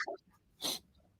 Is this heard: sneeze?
yes